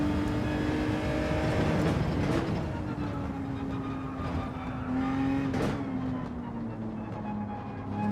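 McLaren and Genesis race cars in Gran Turismo 7 accelerating on track, a loud engine whine climbing in pitch with gear shifts and another car passing close by.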